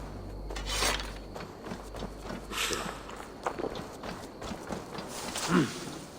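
Horse hooves clip-clop at a steady walking pace in Assassin's Creed Valhalla, moderately close and mixed with ambient game sounds and low rumble, with a brief louder thump near the end.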